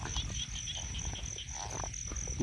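Frogs croaking continuously in a rice-field night setting, a dense, steady chorus of rapid pulsing calls with an insect drone underneath.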